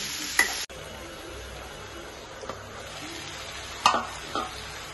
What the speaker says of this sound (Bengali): এই যে আমার মিষ্টি কুমারটা সুন্দর করে ভাজা ভাজা হয়ে যেতেছে।